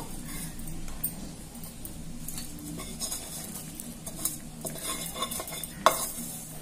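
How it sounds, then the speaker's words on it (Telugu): A utensil stirs cheese pasta in a pan as the cheese melts, with repeated scraping and clinking against the metal over a soft sizzle, close and fairly quiet. "ఇలా కలుపుకుంటూ ఉండాలి. చీజ్ కరిగిపోయినట్టే."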